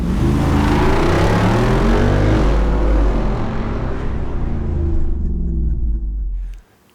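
A Jeep Wrangler Rubicon 392 with its V8 launches under hard throttle, a deep loud engine roar building and holding close before cutting off abruptly near the end.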